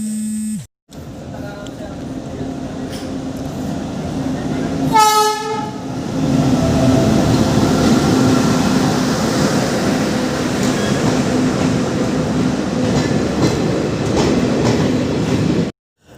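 Steady rumble and rattle inside a moving passenger train, with a brief horn-like tonal burst around the middle and continuous clatter of the carriage running alone throughout.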